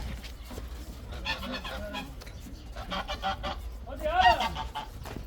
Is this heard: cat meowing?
no